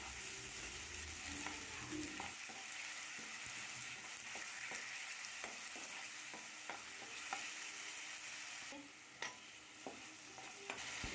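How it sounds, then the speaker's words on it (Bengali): Grated tomato frying in a pan with green chilli and ginger, a steady hiss of sizzling under repeated scraping stir strokes, faint but continuous throughout with no speech. "এবার গ্রেট করা টমেটো দিয়ে দিলাম। এবার টমেটো ভেজে নেব।"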